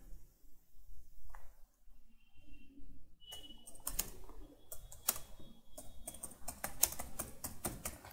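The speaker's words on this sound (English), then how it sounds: "typing my name." Fingers type on a computer keyboard in quick, irregular bursts of clicking keys, sparse at first and then denser, close and fairly quiet.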